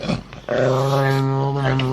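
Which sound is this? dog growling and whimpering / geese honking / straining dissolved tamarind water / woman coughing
dog growling and whimpering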